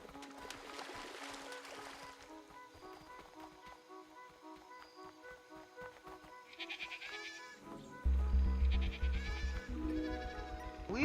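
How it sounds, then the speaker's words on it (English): Sheep bleat repeatedly in the meadow of the Superbrothers Sword & Sworcery video game, wavering cries over soft game music and hoof-like clip-clops, growing louder and denser toward the end. "We spied a few worthless sheep lazing around in the meadow."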